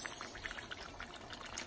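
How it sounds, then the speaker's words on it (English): Water is poured into a pot holding fried fish and sauce, a soft, faint steady pour lasting under two seconds. "I just add water to this."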